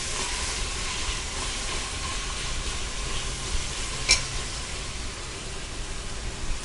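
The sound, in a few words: onions sautéing in a pan for mutton biryani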